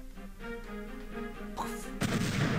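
Explosive boxes blow up in the Superman: The New Superman Adventures video game. A sudden loud, broad blast comes near the end, after steady tonal game music.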